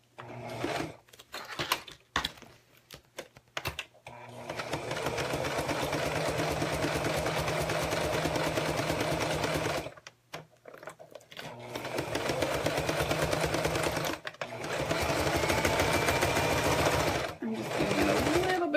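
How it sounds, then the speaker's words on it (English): A sewing machine stitches a zipper into a pouch in steady, fast motor-driven bursts separated by short pauses, the longer runs several seconds each, with brief speech between them. "I'm going to give myself some back stitches here where the zipper meets"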